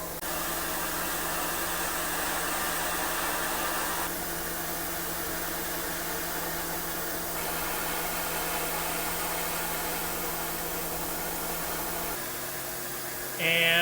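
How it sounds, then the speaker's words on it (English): A CNC mill hums and whirs at a steady high pitch while a ball nose cutter deburrs a metal screwdriver, with slight shifts in tone over the run and a brief louder noise at the end. "Now we're deburring with that same ball nose."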